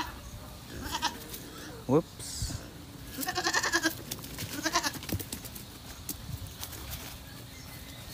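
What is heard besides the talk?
goats bleating on a farm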